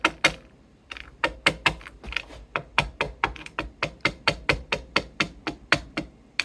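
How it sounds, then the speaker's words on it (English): Loose tuners on a vintage 1970s Fender Telecaster rattle in a quick run of sharp, dry clicks, close and evenly paced, about three or four a second, with no talking over them. "tuners are really rattly"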